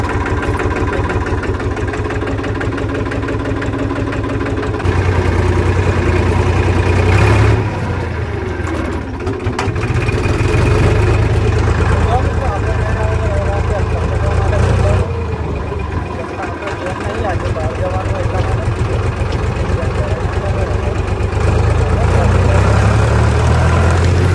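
A tractor engine on a farm field holds a steady, throbbing low idle for the whole stretch, loud and close, with slight swells in level and some talk mixed in.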